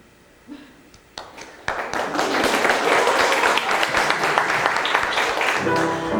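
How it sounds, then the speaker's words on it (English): Audience at a theatre staged reading breaks into applause, starting with a few scattered claps and swelling into full, dense clapping that carries on loudly before tapering near the end. "You can clap if you want."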